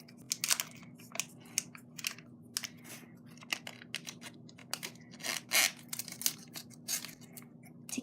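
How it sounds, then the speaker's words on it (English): Scissors snip open packs of orange butter slime, a run of crisp, irregular cuts and crinkly plastic rustles close by, with no talking. "We just have some scissors to cut open the packs."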